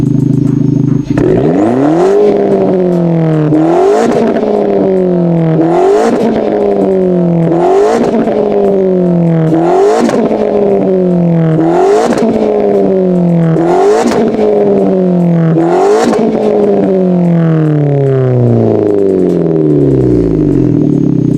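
A GT car's engine is revved hard again and again, close and loud, each rise climbing to a sharp peak before dropping back to idle, about eight cycles in steady rhythm and ending as the revs wind down.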